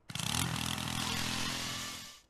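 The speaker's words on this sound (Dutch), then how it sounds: "Nou, maar met de drill, boor!" Power drill whirring loudly and steadily for about two seconds in a prison-escape video game, starting abruptly and tailing off at the end, with no talk over it.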